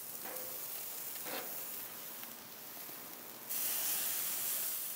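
Shrimp skewers cooking on a covered grill, a steady hiss with faint crackles that swells louder near the end, heard alone without voices.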